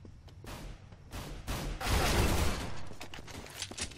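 Rapid bursts of CZ pistol fire in Counter-Strike: Global Offensive, a string of close, sharp shots bunched together with louder overlapping volleys in the middle, no voices.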